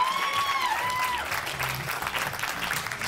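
Team Singapore teammates cheer and applaud after a strike at a women's professional bowling championship match, a loud, sustained burst of clapping and shouts in an indoor arena, with a commentator talking over it.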